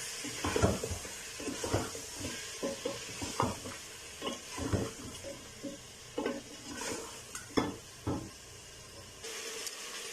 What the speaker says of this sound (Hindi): इन दोनों चीज़ों के साथ हम गोश्त को अच्छी तरह फ्राई करेंगे